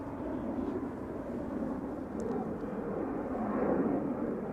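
A plane at Amsterdam Schiphol Airport makes a steady, continuous low roar of jet engine noise that swells slightly toward the end, heard from a distance with no voices.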